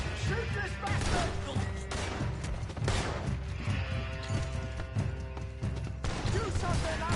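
Gunfire in Red Dead Redemption 2 comes as repeated sharp shots and crashes scattered through a chaotic brawl, mixed with frequent shouting voices and background music.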